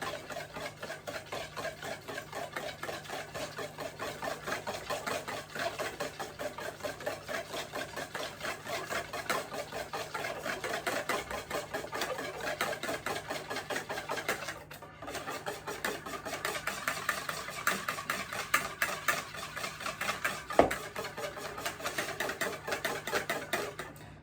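A hand blender whirs steadily and continuously, mixing butter and curd, its motor buzzing with a slight rhythmic churning that briefly dips before resuming.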